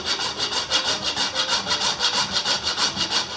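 Fresh nutmeg is grated on a microplane in quick, even back-and-forth rasping strokes, about four per second, close and clear with no talking.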